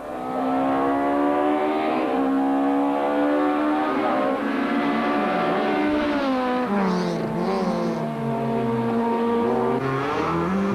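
A rally car at the Cape Rally 2003 drives close and loud on a stage, its engine holding a strained, high-revving whine that rises and falls through gear changes and corners, with no voices.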